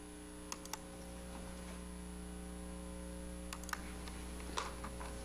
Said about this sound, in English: My keyboard's not working here.